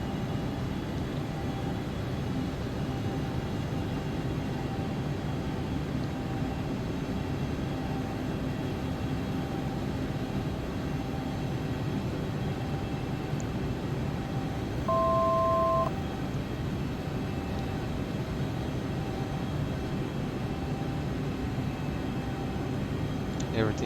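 Steady droning jet engine of an ERJ 145 regional jet in the X-Plane 11 flight simulator on a river visual approach into Washington DC, a constant even hum throughout with a brief two-tone beep midway.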